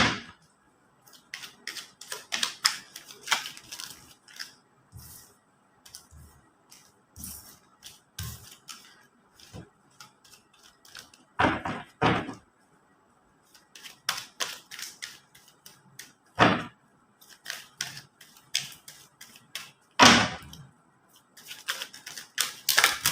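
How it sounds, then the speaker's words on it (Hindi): Tarot cards are shuffled over and over in bursts of crisp, rapid clicking riffles with short pauses between them, close and clear, with no talking. "काफ़ी ज़्यादा कार्ड शफल कर रहे हैं"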